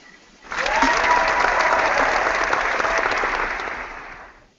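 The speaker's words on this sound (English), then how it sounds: "So let's welcome Billy to Vlog Weekly and get all applause" Burst of applause welcoming a guest onto a weekly vlog show, starting abruptly and holding steady before fading, with a narrow, canned sound like a sound-effect track.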